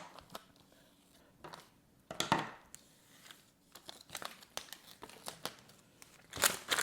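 Sticker material is cut by hand in short, uneven snips and crinkles, close and fairly faint, with brief pauses between cuts and no talking.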